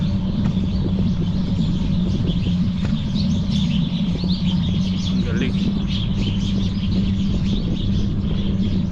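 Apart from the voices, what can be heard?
birds chirping in a park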